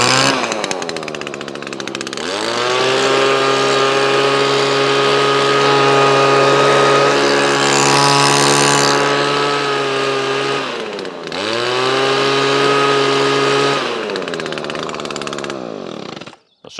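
A small two-stroke engine burbles loudly close by on Aspen alkylate fuel after starting, holding a steady idle with a brief dip and recovery near the middle before cutting off at the end.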